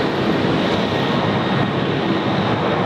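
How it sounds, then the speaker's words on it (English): Boeing 737-300 airliner on the runway at Brisbane Airport, a steady broadband jet roar heard from a distance, continuous and fairly loud without any speech. "the 737-300 is going to be going on runway 19 right, not left."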